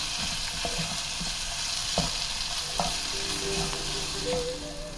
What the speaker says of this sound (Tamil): ஸ்ப்ரிங் ஆனியனுடைய ஸ்டெம்மு, கேப்சிகம், இது எல்லாத்தையும் சேர்த்து ஒரு 2 நிமிஷம் நல்லா வதக்கி விடலாம்.